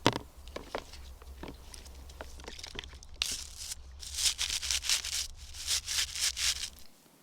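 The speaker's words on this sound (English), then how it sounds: "bristle brushes are easier with a comb to like get down and scrape it off" A comb scrapes dirt off horse bristle brushes in short scratchy strokes, sparse at first and then denser rhythmic rasping, with no talking.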